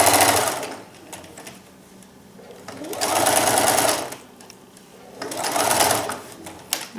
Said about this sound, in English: I'm going to sew a 1/4 inch seam allowance